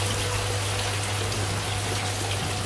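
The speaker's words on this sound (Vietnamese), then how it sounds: "trong cái lúc mưa này thì cũng đi về cũng bị ướt, mà đi ở lại thì cũng bị mưa" Steady rain falling, a dense even patter with a low constant hum underneath and no voices.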